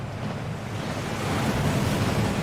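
A waterfall in the Hogwarts Legacy video game roars as a steady, dense rush of water. The noise is broad and unbroken, swells slightly toward the end and is heard alone with no talk.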